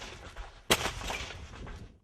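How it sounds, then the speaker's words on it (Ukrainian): A D-30 howitzer fires at long range during an artillery exercise, heard as a single sharp, loud boom followed by a rolling rumble that fades out. "Зараз ми ведемо вогонь гарматами Д-30 максимальною дальністю стрільби 15 кілометрів 300 метрів."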